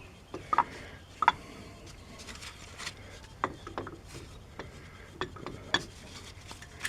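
An old-fashioned C-clamp is turned to push the brake caliper pistons back on a 2014 Chevy Silverado, giving scattered close metallic clicks and creaks at irregular intervals over quiet background.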